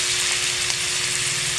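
Okra sizzles in a hot frying pan for pinakbet, a dense steady crackling fry that stays close and constant with a faint low hum beneath it.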